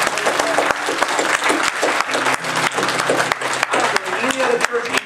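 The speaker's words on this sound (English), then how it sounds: "Can you give God a hand?" A church congregation bursts into loud, sustained applause, with dense clapping from a large crowd holding steady throughout, under some voices and cheers.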